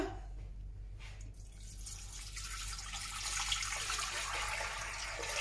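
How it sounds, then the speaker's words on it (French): Cold water running from a tap into a cooking pot, a steady close rushing stream that grows slightly fuller as the pot fills. "Et je vais le remplir d'eau froide."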